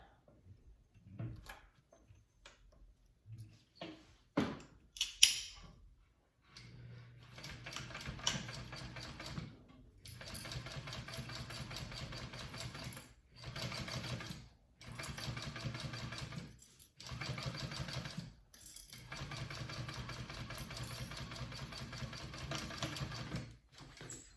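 A sewing machine top stitches a fabric bag in long steady motor runs, its rapid needle chatter broken by brief pauses, preceded by a few scattered handling clicks and knocks, close and fairly quiet.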